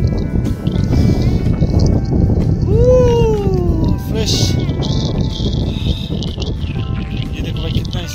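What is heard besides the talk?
strong wind blowing in mountain valley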